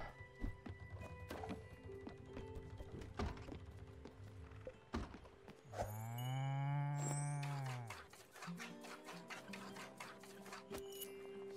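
A cow lows in Spiritfarer, one long drawn-out moo in the middle, set against clicking and tapping game sounds and faint background music.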